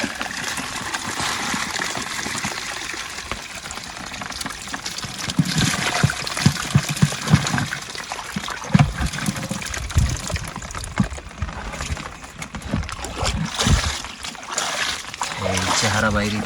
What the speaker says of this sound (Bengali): দেখেন এই মাছগুলো সব এখন ধোয়া হইবে একসাথে